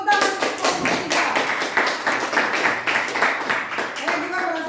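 A classroom of students claps their hands for a group presentation in an Indonesian school lesson, a steady run of dense, sharp claps at close range with voices mixed in throughout.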